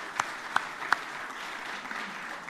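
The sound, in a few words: audience applause at Paris-Nice press conference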